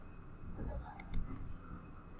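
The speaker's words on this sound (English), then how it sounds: "I'm going to start clicking along the line" A computer mouse gives a couple of faint, quick clicks over a low background hum and soft room noise.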